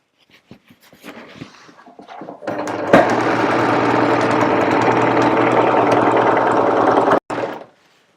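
Sewing machine stitching a geometric pattern runs at a loud, steady, rapid hum for several seconds after a few soft clicks, then stops abruptly and gives one short final burst.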